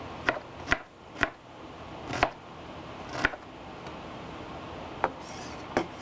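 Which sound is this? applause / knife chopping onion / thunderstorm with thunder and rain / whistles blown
knife chopping onion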